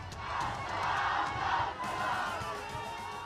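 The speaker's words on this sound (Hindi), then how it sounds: "कन्हैया अपने भाषण पर तालियां भी बजवाता है।" A crowd at Kanhaiya's political speech erupts in a sustained roar of cheering and shouting that swells, briefly dips, then carries on at a distance.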